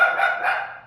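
A puppy gives one short, high, tonal yap that trails off within a second, heard close and alone.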